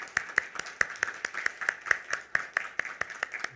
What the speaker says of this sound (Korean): 우리 그분들 생각하며 우리 박수 한번 쳐드릴까요?